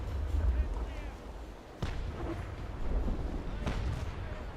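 Heavy ship cannons fire at an enemy's sails during a Naval Action battle between two 2nd-rate sailing warships, two deep booming shots a couple of seconds apart over a low rumble, with talk underneath.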